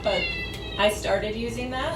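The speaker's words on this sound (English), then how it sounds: "You'll have to excuse my cat in the background." A house cat meows in the background, with several short harmonic cries mixed under a person talking nearby in a kitchen.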